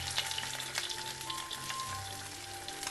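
Cumin, crushed ginger and garlic fry in hot oil for a soybean curry, making a continuous crackling sizzle close to the pan, with light clinks and a faint hum behind it and no voices.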